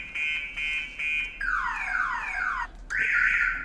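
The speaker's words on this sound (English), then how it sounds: "the alarm just kept going off and off and off" A car alarm sounds in a workshop, cycling through a steady tone, then descending swooping sweeps, then a harsh buzzing siren, loud and continuous with no talking.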